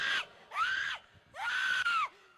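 A woman screams repeatedly during a church prayer meeting in Ferozepur: three long, loud, high-pitched wails with short breaks between them, heard alone without any talking.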